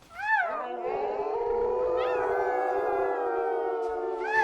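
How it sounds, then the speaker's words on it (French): A wolf howls in a long, loud, wavering cry that rises and then holds steady, with a second howl swelling in at the end, heard on its own with no talking. "Le cri de loup le saisit."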